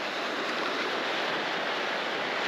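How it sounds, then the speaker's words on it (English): Surf rolls in steadily on a windy beach at Ballywalter, a continuous broad wash of breaking waves with wind buffeting the microphone, loud and close throughout with no voices. "Sound of the waves is always very calming"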